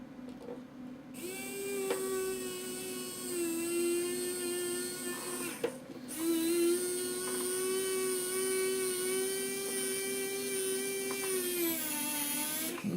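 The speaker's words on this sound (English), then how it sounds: "Let me get my little electric drill over here." A small electric drill whines steadily at high pitch, nearby, drilling on a model aircraft build, with a brief pause before spinning up again and running on continuously.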